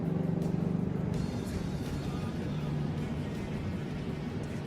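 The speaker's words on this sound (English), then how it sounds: "you'll notice the different exhaust tone" Ford Mustang Bullitt V8 exhaust rumbling steadily at low pitch, a continuous deep drone that stays fairly constant throughout, with some faint higher noise above it.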